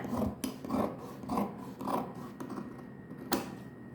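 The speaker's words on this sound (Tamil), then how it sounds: "இந்த வளைவு வளைஞ்ச இடத்துல தான் நான் கட் பண்ணி கொண்டு வரேன் பாருங்கள்" Scissors cut through fabric for Patiala pants along a curved line, giving close, rhythmic rasping snips that repeat about every half second.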